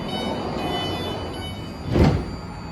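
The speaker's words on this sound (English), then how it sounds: "The doors are closing. Please stand clear of the doors." The doors of a new 9-car, 3-door BART Dublin/Pleasanton train slide shut at the platform. A steady hum runs under them, then one brief thudding close near the end.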